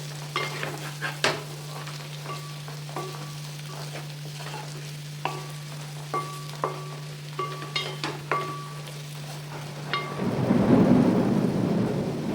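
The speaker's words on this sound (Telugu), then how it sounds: "బయట బాగా వర్షం పడుతుందండి" Steady heavy rain hiss outside runs beneath scattered kitchen clinks and stirring taps while aloo gobi is cooked, ending in a louder burst of sizzling.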